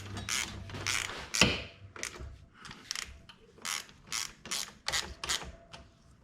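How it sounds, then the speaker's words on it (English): Ratcheting wrench tightening a bolt during brake pad installation on a Kawasaki Brute Force 750 ATV, a series of close, crisp clicking bursts in an uneven rhythm with metallic mechanism sounds and no talk. "get this bolt started. Then we're gonna tighten it up."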